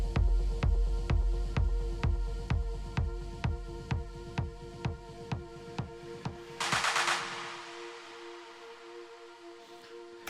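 A steady four-on-the-floor kick drum pounds under a sustained synth pad, then drops out around seven seconds, leaving a noisy swell and the pad fading alone.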